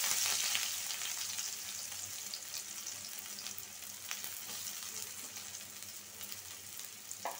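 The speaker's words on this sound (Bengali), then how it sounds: "প্রথমে তেল গরম হয়ে গেছে, এখন পেঁয়াজ কুচি দিয়ে দিলাম।" Chopped onion frying in hot oil for a spicy chicken and potato curry, a steady close sizzle that stays fairly even throughout, louder at the start, with no talk.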